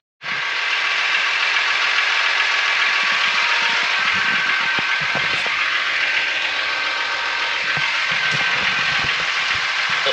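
Tractor engine running steadily while baling a hay field, a loud continuous mechanical drone with faint rattling and clicking from the baler machinery, close and unbroken throughout.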